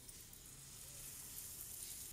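Banana batter frying in hot oil over medium heat, a steady, even sizzle with no talk.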